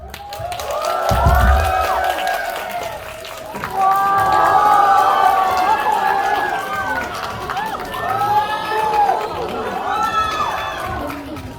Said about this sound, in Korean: 배우님들 나오실 때 환호성 부탁드리겠습니다